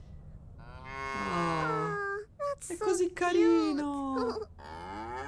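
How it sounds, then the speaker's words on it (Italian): Cartoonish cows moo in a field in the video game Little Misfortune, a few drawn-out, wavering calls in sequence, with someone speaking Italian between them. "Miss Fortune, guarda, c'è un gruppo di mucche nel campo."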